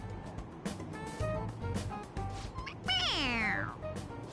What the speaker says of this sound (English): It's, a toy! It meows when you press on its head.